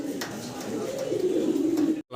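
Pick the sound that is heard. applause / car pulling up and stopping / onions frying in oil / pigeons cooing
pigeons cooing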